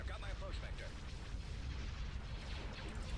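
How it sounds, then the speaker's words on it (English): Missiles striking ships in the Star Wars space-battle game Thrawn's Revenge, producing a dense, continuous rumble of overlapping booms and blasts with no clear pause. "that is a lot of missiles going in"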